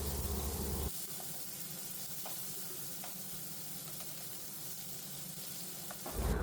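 Long-sliced onions and green chilies sizzle steadily in a hot pan, a soft, even frying hiss with no one talking.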